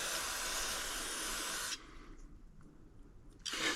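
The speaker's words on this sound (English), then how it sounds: "Go ahead and spray our float off." Aerosol carburetor cleaner hisses as it is sprayed onto the float of a John Deere X540 lawn tractor carburetor, a close steady spray lasting under two seconds, then a quiet pause with faint handling before a second burst begins.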